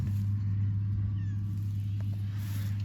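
A cat meows on a farm over a steady low engine-like hum, its brief calls close and fairly clear against the constant drone.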